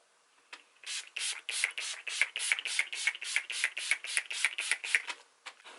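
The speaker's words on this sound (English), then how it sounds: "So let's go ahead and apply the setting spray." Setting spray mists onto skin in a quick run of short, soft hissing bursts, evenly spaced and close, about a dozen puffs in a row.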